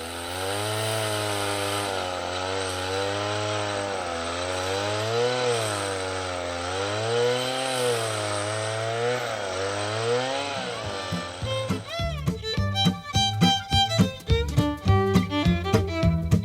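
A chainsaw cuts into a large tree while logging, its engine droning steadily and rising and falling under load for about eleven seconds, then giving way to sharp cracking and snapping as the trunk gives.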